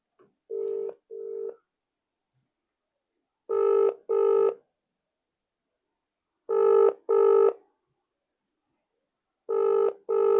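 A telephone rings unanswered in repeated double bursts, four ring pairs spaced about three seconds apart, clear and fairly close with silence between and no talking.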